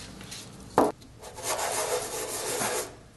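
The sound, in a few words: sanding a stamp stone flat with sandpaper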